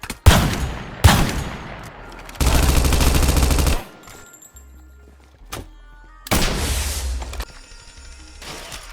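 TACZ guns in Minecraft with the Epic Fight mod fire in loud bursts, a long sustained rapid volley among sharp single shots, interspersed with mechanical reloading clicks and quieter pauses.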